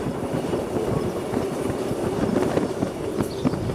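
A Pakistan Railway Miyanwali Express train runs along the main line at night, its wheels giving a steady, close clickety-clack rumble over the rails with no voices.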